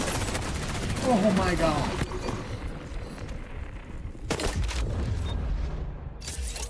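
Rapid AK rifle bursts crackle in the XDefiant multiplayer shooter, dense loud fusillades with booming impacts layered over game sound, while a player briefly exclaims.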